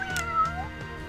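An NPC cat in the video game Arc the Lad: Twilight of the Spirits gives a single clear, drawn-out meow over a quiet tonal music background.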